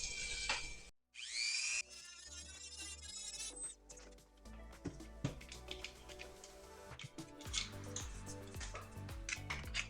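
Plastic tabs on an ARES Amoeba AM 013 airsoft gearbox being shaved down with a tool, giving irregular scraping, clicking and tapping bursts close up, with brief pauses and no talk.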